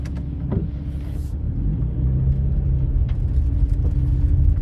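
A Nissan Skyline 350GT V35 with a 3.5 V6 engine pulling away on a drive, a low engine rumble building steadily from idle with road noise, heard from inside the car.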